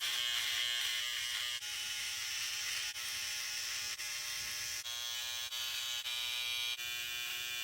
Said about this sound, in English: Then I'm going to use my trimmer to outline my neckline,